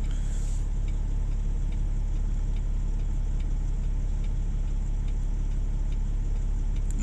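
A steady mid-pitched diesel engine drone from a payloader working on an oil rig site during dismantling, continuous and fairly loud, with faint regular ticking over the hum and no one speaking.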